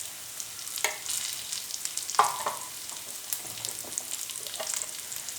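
Onions fry lightly in a pan while samosa stuffing is made, giving a soft, steady sizzle with a few scraping stirs and clinks of a spoon against the pan and no voice over it.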